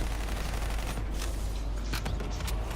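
Rapid bursts of video game gunfire crackle through a constant background din, with several sharp shots standing out among the repeated volleys and no speech over them.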